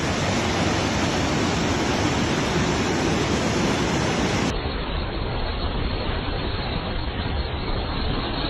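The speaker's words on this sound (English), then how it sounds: "Flash floods coming down from the mountainous region engulfed the lowland villages in an instant" Broadband roar of flash-flood water rushing down from mountainous terrain, continuous and dense, loud and steady, then abruptly duller and muffled partway through, with no voices.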